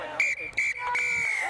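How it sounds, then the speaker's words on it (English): A referee's whistle sounds at the end of a college rugby bowl match: several shrill close blasts, the last one long and sustained, over faint crowd noise with a commentator speaking beneath. "And referee Hedquist whistles us for the end of the Rhino Bowl."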